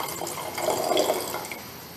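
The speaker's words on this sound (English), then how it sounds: "This is 100 ml sample I have poured." A 100 ml water sample is poured into a flask during a chloride determination lab demonstration, a brief close splashing gurgle of liquid that peaks midway and fades, with no talk.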